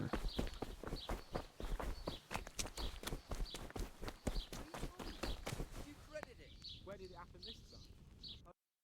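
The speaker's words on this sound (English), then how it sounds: "There's my horse." Horse hooves clip-clop in a steady walking rhythm in the medieval video game Kingdom Come: Deliverance, mixed under game speech and ambient sounds.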